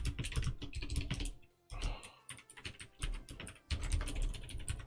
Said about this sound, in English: I do not know what is going on with my typing today, but it's driving me nuts.